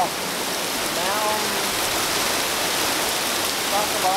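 Waterfall roaring steadily near an eddy where a soccer ball floats, a dense wash of falling water filling the scene throughout with faint voices beneath.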